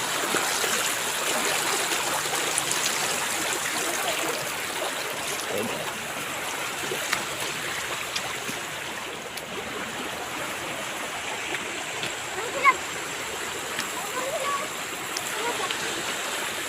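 Shallow, clear river water flows and trickles steadily over the riverbed, a constant close babble with no talking and only a small splash near the end.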